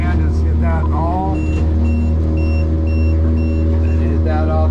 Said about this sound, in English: right now, collision alarm, I'm gonna turn off. So I don't have to hear that thing